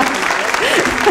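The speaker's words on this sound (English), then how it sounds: "Round of applause for Julie that lives round the block." Brief burst of audience applause at a live comedy-style show in Craigavon, dense clapping from a crowd that is loud and close, with voices mixed in.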